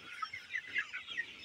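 Sonali chickens cluck softly in a poultry shed, a quick string of faint, repeated clucks with no talking.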